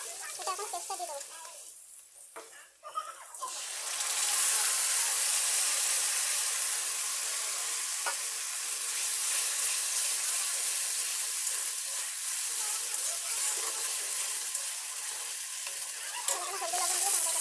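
Spice paste of chilli, cumin, ginger, garlic, onion and tomato added to fried onions in a wok erupts into a loud continuous sizzle and hiss, with occasional stirring scrapes and a brief voice at the start.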